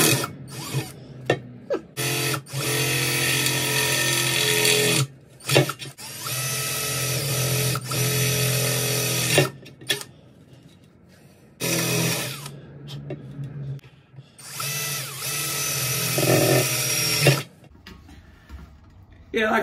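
A power drill boring holes through a 350 V8 valve cover into the table below, several loud sustained whirring bursts with short pauses between them, close by, and a voice speaking now and then.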